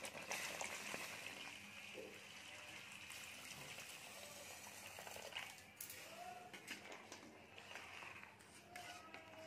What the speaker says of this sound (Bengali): এখন আমরা এর মধ্যে দিয়ে দেবো গরম জল।